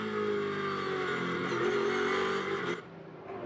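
A race car drives the circuit during Blancpain Sprint Series qualifying in Moscow, its engine a loud, sustained drone with shifting pitch that suddenly drops away near the end as the car passes.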